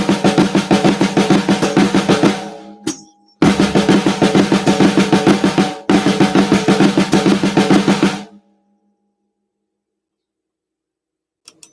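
A drum kit plays a Swiss triplet stutter pattern in three dense bursts of rapid, rolling strokes, loud and close, each separated by a brief gap before the playing stops and silence follows.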